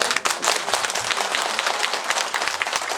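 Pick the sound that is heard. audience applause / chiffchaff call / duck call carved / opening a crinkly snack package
audience applause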